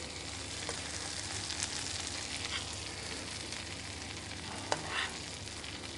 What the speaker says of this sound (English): I sort of baste the fish with it